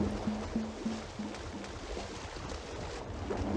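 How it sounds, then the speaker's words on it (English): Water runs from a Triceratops skull in the clay-animated video game The Neverhood, a faint, steady trickling wash with soft repeating tones from the game at the start. "I've turned on the water from the Triceratops skull."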